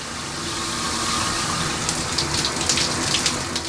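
A newly replaced shower runs at high pressure, sending a steady, loud hiss of spraying water with a few brighter splashes toward the end, and no voices.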